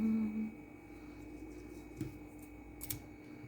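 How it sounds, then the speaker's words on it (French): Scissors cut a length of ribbon into a point for a Christmas advent wreath, giving two soft, quiet snips over a low room hum. "je coupe le ruban comme ça"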